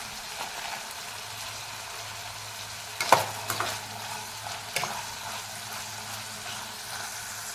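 Green peas stir-fried in a pan for Maharashtrian masale bhat, a steady soft sizzle with a few sharp clatters of stirring near the middle, recorded close with no talking.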